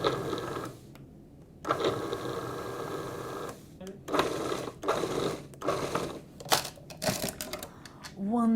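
Food processor pulsing shortbread dough made with semolina, short mechanical bursts with clattering between gaps, near and fairly loud, a brief pause early on and a voice nearby.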